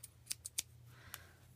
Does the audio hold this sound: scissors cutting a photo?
yes